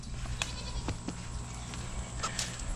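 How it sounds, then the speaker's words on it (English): An Angora goat on a homestead gives a few short bleats, near and fairly clear, over a steady farmyard background hum. "He's an Angora goat."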